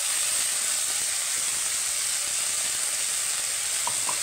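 Turmeric powder hits a very hot wok of oil in a home kitchen, setting off a loud, steady, dense sizzle and hiss that holds for several seconds with a couple of faint clicks near the end.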